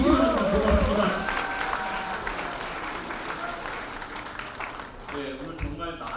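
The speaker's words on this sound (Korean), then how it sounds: "박수 다시 한번 맞이해주시기 바랍니다" Audience applause at a political party forum's launch lecture, a broad steady wash of clapping that gradually softens, mixed with a host's voice speaking over it near the start.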